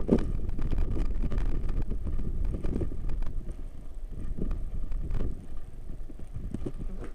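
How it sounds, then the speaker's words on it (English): Strong outdoor wind buffeting the microphone in cold weather at an air rifle range, a continuous loud low roar with gusty swells and no speech. "A lot of wind right now."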